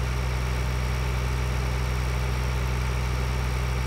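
A tractor engine in the video game Farming Simulator 2013 idles with a steady, low hum, a constant rumble and no change in pitch throughout.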